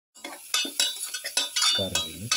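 A metal spoon stirring coriander, fennel and turmeric powders into a fish stew in a pot, giving a series of quick clinks and scrapes in an uneven rhythm, close and fairly loud.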